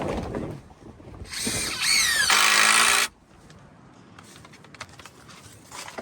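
Cordless power drill driving screws during a farm silage repair, with a loud whirring burst that rises in pitch before cutting off, followed by quieter handling noises and light clatter.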